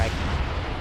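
Air strike landing on Space Marines in a Warhammer 40K map in a strategy video game, a brief dense rumbling blast with booming low end, loud and close.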